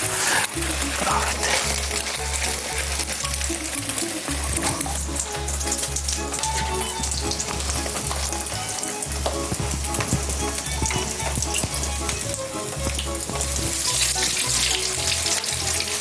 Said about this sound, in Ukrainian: Потім яйце беремо, І викладаємо на пательню.